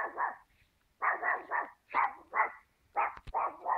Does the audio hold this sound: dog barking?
yes